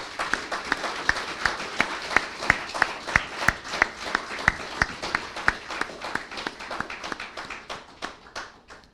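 An audience at a book launch claps, with a clear sharp beat of hand claps near the mic over a wider patter of applause that thins out toward the end.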